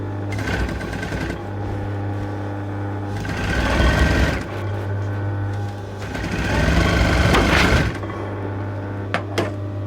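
Sewing machine stitching a dress centre back seam with a back tack, running in three loud bursts separated by short pauses, with a couple of sharp clicks at the end.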